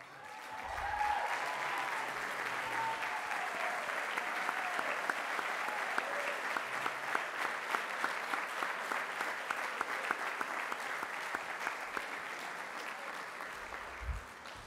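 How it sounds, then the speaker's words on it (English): An audience at the 2019 Seton Hall Athletics Hall of Fame enshrinement dinner claps in sustained, even applause filling a banquet hall, lasting well over ten seconds before fading. "could you please stand for a round of applause?"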